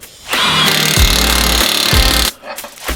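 Power tool tightening a lug nut on a BMW 340i with Rays wheels, a loud close impact-gun burst of about two seconds with rattling hammer pulses, then it stops.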